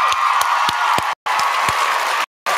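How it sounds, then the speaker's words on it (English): A church audience gives a hand clap of praise, dense applause from a crowd that is cut off twice by brief dropouts and then resumes, loud and close. "I want a hand clap of praise into our team here"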